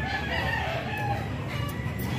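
A rooster crows through a dense outdoor background of murmuring and bustle at a cockfighting arena, the call steady and moderately loud above the crowd noise.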